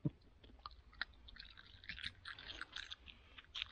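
Close, quiet mouth sounds of a peppermint toothpaste tablet being rolled and chewed, with soft clicks and wet crunches scattered irregularly.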